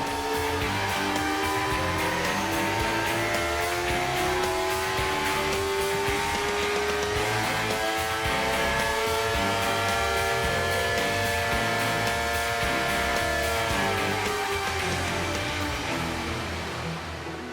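A Suzuki motorcycle engine runs bolted to a test stand in a bench test room, holding a steady, buzzing high-revving drone with a slight pitch sweep, continuous and fairly loud throughout.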